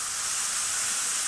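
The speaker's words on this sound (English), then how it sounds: "And then tiny splash of water." A splash of water hits a hot pan of browning radicchio, giving a loud, steady hissing sizzle and steam that fills the whole short moment.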